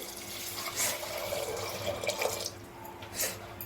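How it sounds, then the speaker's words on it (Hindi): Water poured into a pressure cooker holding chickpeas for chole, a steady splashing, gurgling stream running close by for several seconds, with no talking. "तो देखिए सारे चने को मैंने कुकर में डाल दिया है। अब मैं इसमें पानी डालूंगी।"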